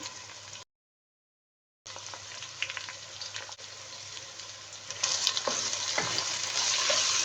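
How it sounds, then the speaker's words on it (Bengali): Chopped onions frying in oil in a pot until brown, a close, steady sizzle with occasional stirring, briefly cutting out near the start then growing louder and brighter toward the end. "পেঁয়াজটা ব্রাউন কালার করে ভেজে নেব"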